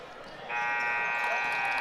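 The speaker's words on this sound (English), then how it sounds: "Buzzer goes off, and that is going to do it for the varsity girls game." A sustained electronic buzzer blares at the end of a varsity girls high school basketball game, starting abruptly and holding loud and steady over gym crowd noise.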